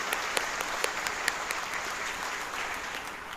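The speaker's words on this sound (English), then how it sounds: "Y'all can clap right now." Commencement audience at Grayson College applauding, a dense, steady wash of many hands clapping at a distance with no talk over it.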